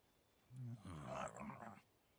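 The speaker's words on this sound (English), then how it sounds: "Snake, be careful of those attack dogs." Attack dog growling in the stealth video game Metal Gear Solid Snake Eater, a single short, close, rumbling snarl lasting about a second, with no talking over it.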